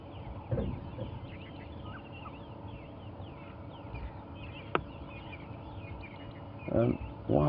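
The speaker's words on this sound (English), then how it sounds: "you'll be able to take in the wonderful bird song and chorus of the morning" Faint morning birdsong chirps and trills drift through a quiet outdoor safari scene at sunrise, with a few louder voices or calls near the end.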